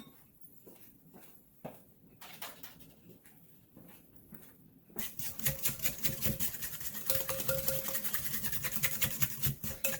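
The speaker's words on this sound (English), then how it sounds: "Seems to mix it a little better when you use these whisks." Sugar cookie dough being whisked by hand in a bowl: soft scraping and tapping strokes at first, then about five seconds of louder, rapid, steady rhythmic whisking up close, with no talking.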